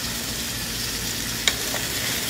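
Cooked rice frying and being stirred in a pan, a steady close sizzle with one brief clack of a utensil partway through.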